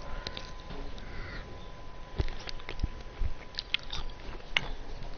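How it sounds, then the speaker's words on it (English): Someone eating close to the microphone, with irregular crunchy bites and wet chewing clicks scattered through, fairly quiet, and no talking. "I'm eating food right now, bro."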